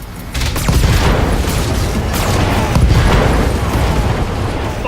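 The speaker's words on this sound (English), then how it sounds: "Oh my goodness, isn't that so satisfying? Each of those explosions." Rapid, dense explosions from weapons fire hitting a dummy urban mech in the video game Battletech, a continuous loud barrage of booms and bursts with no pause.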